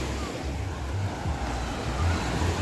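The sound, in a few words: river water flowing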